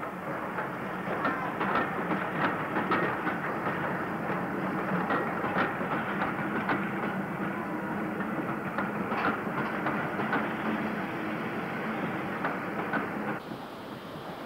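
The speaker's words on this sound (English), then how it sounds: "the main train from Birmingham arrived behind a well-turned-out 44680" Steam locomotive 44680 hauls a special train from Birmingham into Chester, with a continuous rumbling rail noise and rhythmic clicking of wheels over joints, steady and fairly near, cutting off slightly at the end; no voices.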